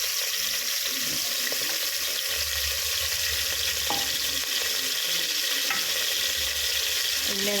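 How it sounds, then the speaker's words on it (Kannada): Goat trotters for soup fry in a little oil in a cooker, giving a steady sizzle with scraping stirs and occasional clinks close by. "ಎಣ್ಣೆಗೆ ಹಾಕ್ಕೊಂಡು ಸ್ವಲ್ಪ ಇದನ್ನು ಹಿಂಗೆ ಆಡ್ಸ್ಕೋಬೇಕು"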